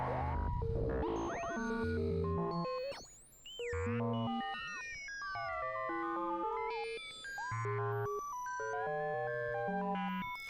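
Sine tones from a Buchla modular synth oscillator chirp and glide in shifting pitches, layered beeps and sweeping whistles forming a busy, continuous synthesized texture.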